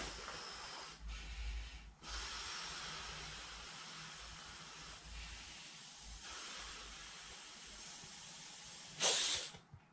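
Breath is blown through the valve of a self-inflating sleeping mat as a soft, steady airy hiss with short pauses between puffs, close and quiet, with no talk.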